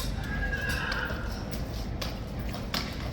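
A horse at the King's Guard neighs in one drawn-out whinny, close and clear over a busy background with a few sharp hoof-like knocks, while faint voices are heard.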